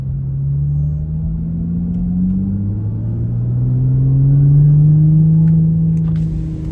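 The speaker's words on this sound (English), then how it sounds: "Nice big speed bump here." A B5 Audi S4 rolling slowly over a large speed bump, its engine rumbling low and close, with the pitch rising gently as it eases through, plus a faint thump near the end; no talking.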